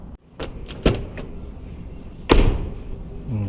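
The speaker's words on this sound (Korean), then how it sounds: "문을 열고 닫는 느낌이 예전의 차들에 비해서 굉장히 개선이 된 것 같아요." A Hyundai Kona door opens with a quick latch click, then closes with a solid, firm thud about a second and a half later, close by and standing alone with no talk.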